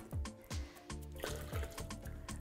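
Lukewarm water is poured into a bowl of batter mix for a Moroccan brunch dish, giving a series of close, wet glugging splashes and drips in an uneven rhythm, with no voices.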